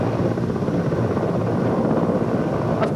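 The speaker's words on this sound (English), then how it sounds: "that MI-17 helicopter that's positioning itself on the field in front of us" Mi-17 helicopter hovering low over a field at an outdoor military rally, its rotor producing a steady continuous roar with no let-up and no voices.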